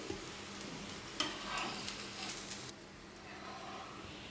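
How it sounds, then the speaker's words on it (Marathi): A garlic paratha roasting crisp in a hot pan gives off a steady, close sizzle and crackle, louder in the first part and then settling to a softer fry with no talking. "आणि छान असा खरपूस भाजून घ्यायचा आहे पराठा"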